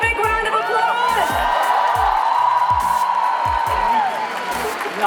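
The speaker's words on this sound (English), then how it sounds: "Give yourselves a big round of applause." A large, enthusiastic crowd at a live celebration event applauds and cheers, with whoops rising over steady, dense clapping that holds for several seconds, while rhythmic thumping music beats underneath.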